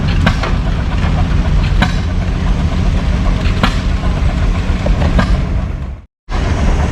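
An Eclipse steam tractor runs at a threshermen and collectors show in Maryland, a steady loud mechanical rumble with sharp periodic chuffs, cut by a brief dropout near the end.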